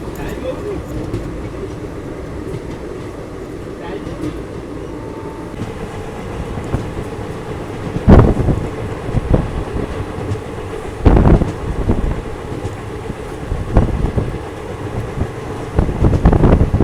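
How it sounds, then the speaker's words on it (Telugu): A passenger train running on its tracks from Hyderabad toward Nizamabad in heavy rain, with a steady close rumble and rattle and occasional louder clanks and jolts. "ట్రైన్ నిజామాబాద్కి స్టార్ట్ అయిపోయింది."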